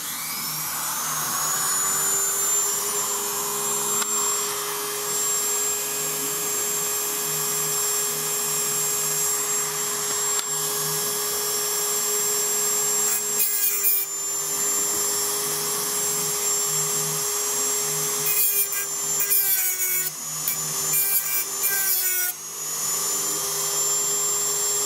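A drill bit used for spot weld removal on a Triumph TR3 is sharpened on a motorized grinder. The motor gives a steady high whine throughout, with bursts of grinding contact near the middle and toward the end.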